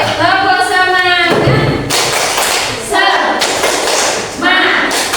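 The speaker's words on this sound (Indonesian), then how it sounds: "mari kita tepuk semangat bersama-sama" A classroom of pupils does the "tepuk semangat" rhythmic clapping routine, with loud, close clap bursts and thumps alternating with chanted group voices in a repeating pattern.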